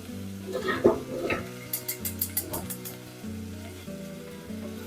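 Plantain (valaikkai) slices frying in oil in a pan, a steady soft sizzle with brief scraping stirs and a few light metallic clinks, close by and moderately loud, with no talk.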